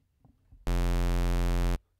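Synthesizer plays a square wave tone as a single buzzy, harmonically rich note held steadily for about a second, loud and close, starting and stopping abruptly.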